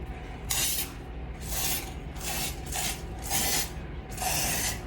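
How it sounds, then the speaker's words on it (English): Bursts of aerosol sealer sprayed onto waterslide paper for a tumbler wrap, five hissing passes of about half a second each with short gaps between, close and steady. "So I'm just going to spray the Waterslide paper really well."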